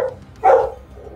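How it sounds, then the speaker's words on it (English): A dog nearby gives one short, sharp bark in an otherwise quiet background. "Oh, I hear a doggy."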